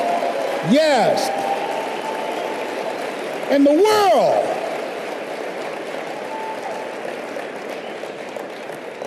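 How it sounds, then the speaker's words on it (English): An audience at a motivational seminar applauds continuously, a steady wash of clapping that runs beneath a man's speech and fades slightly toward the end. "Give her a round of applause."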